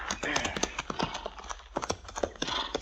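Horse hooves clip-clop in a steady trot as a radio drama sound effect, close and brisk, running under and between short lines of dialogue.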